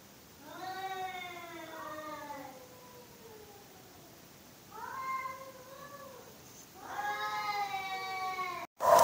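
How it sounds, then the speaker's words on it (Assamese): Two large cats yowl outside a door in long, wavering cries, several drawn-out calls in bursts with quiet gaps between, moderately loud against a faint background hiss. "বিৰাট দুটা মেকুৰী লগ লাগিলেও পুৰা কান্দি আছে দুৱাৰ সন্মুখৰে"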